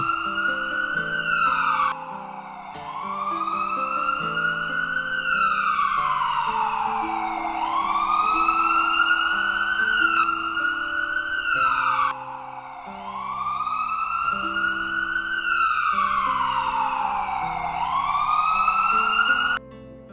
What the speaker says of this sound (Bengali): আমি অ্যাম্বুলেন্সকে খবর দিচ্ছি